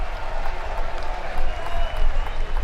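Crowd at an NCAA college baseball game between Arkansas and Murray State applauding and murmuring, a steady wash of clapping with swells near the middle and end, mixed with diffuse chatter.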